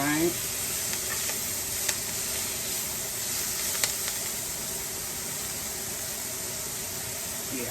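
Pork chops searing in a pan with their own frying grease poured back in give a steady, close, loud sizzle, with a few faint clinks and stirring sounds.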